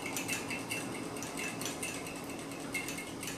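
A fork beating eggs in a bowl for spaghetti carbonara makes a steady, fast clinking and scraping of metal against the dish, close and continuous, with no talking.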